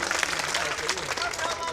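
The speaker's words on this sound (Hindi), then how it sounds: "कमेटी के लिए ज़ोरदार तालियां बजाएं आप लोग।" Applause from the audience at a mushaira poetry gathering, dense continuous clapping at a fairly low level with a voice faintly mixed in.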